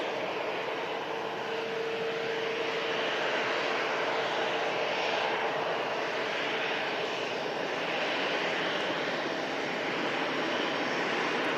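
A Brussels Airlines jet arriving at Manchester Airport, its engines giving a steady broad roar that holds loud and constant throughout, heard from outdoors with no voices.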